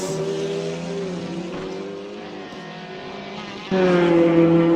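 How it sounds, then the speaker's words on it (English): BTCC touring race cars roar past at Thruxton Circuit, a loud sustained engine drone with shifting pitch that swells sharply as another car closes in near the end. "just hear the roar and thunder of these cars"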